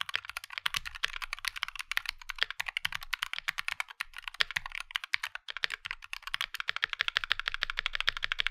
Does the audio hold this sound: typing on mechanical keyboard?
yes